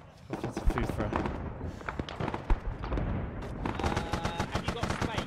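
Dense gunfire and explosions from a Vietnam-era Arma 3 battle, with rapid bursts of rifle and machine-gun fire, heavy booms and a continuous loud crackle of combat throughout, with a voice talking underneath.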